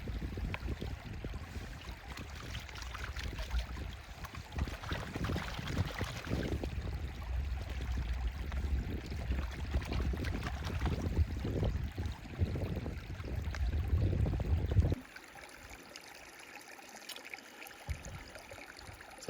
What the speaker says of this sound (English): it's time to pan what I got out of the sluice